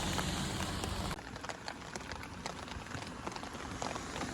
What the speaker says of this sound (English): it's just so nice standing in the rain